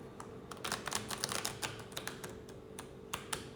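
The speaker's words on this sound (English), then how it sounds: "So just one shuffle." Cards riffled once in a single quick shuffle, a dense run of light, fast clicks and taps lasting a few seconds at close range with no voices.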